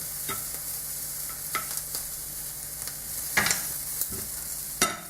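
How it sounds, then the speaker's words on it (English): Shrimp laid into a pan of hot remaining sauce give off a steady sizzle, broken by occasional scraping and clinking of a utensil against the pan. "on the remaining sauce here, you're gonna lay down your shrimp"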